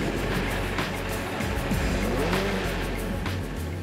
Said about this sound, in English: An engine firing, the sound, the noise, the smell